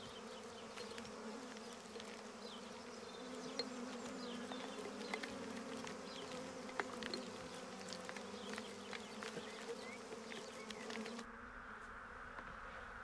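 A dense swarm of honeybees buzzing steadily and fairly close, a continuous layered drone with individual bees passing by, cutting off abruptly near the end.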